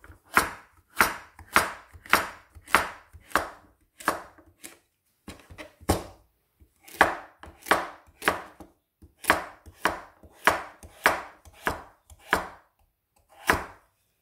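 A knife chops through squash on a cutting board in quick rhythmic runs of sharp, crisp strokes, close and clear, pausing briefly between bursts.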